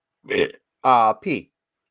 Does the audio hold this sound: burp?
yes